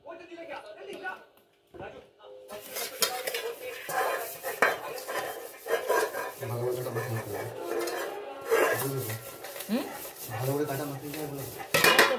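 Oil being rubbed around the inside of an aluminium bowl for a cake, with scraping and clinking of metal under steady talk.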